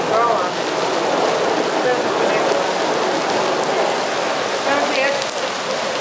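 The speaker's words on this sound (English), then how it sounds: "We are in a freaking downpour now" Heavy rain pours steadily near the castle wall in Salzburg, a loud, constant hiss of downpour with faint voices in the background.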